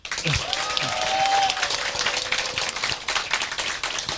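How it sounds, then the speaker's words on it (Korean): Audience applause greets a newly founded citizens' political party at a celebratory speech event, a dense, steady wash of clapping that stays loud and continuous from start to finish, with a faint tonal whine running through the opening seconds. "뜨거운 축하의 박수를 부탁드립니다"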